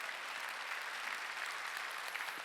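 A church congregation at a Wednesday worship service clapping their hands together, a dense, sustained burst of applause from many people at once, filling the whole moment.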